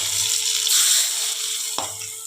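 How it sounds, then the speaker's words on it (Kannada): Mustard seeds tempering in hot oil for a wild mango hasigojju, giving a steady, close bright sizzle with crackling that holds throughout and eases slightly toward the end, with no talk. "ಒಗ್ಗರಣೆಯನ್ನು ಹಾಕಿಕೊಳ್ತಾ ಇದ್ದೇನೆ"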